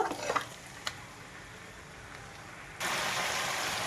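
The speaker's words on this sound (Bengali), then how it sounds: "সব মশলার সঙ্গে মটন আমি খুব ভালোভাবে কষিয়ে নেব।" Mutton pieces with ground spices stirring and frying in a pan, after onion, ginger and garlic; a few light stirring clicks early on, then a steady loud sizzle surges in near the end, with no talk.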